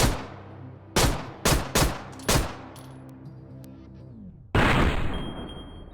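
Gun firing in a VR gravity-zone demo game: five sharp, loud single shots in an uneven rhythm, each with a short ringing decay, then a louder blast near the end with faint tinkling of floating shell casings.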